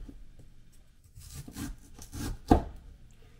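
A knife slices a root thinly on a cutting board, giving soft scraping strokes followed by one sharper knock, close and quiet.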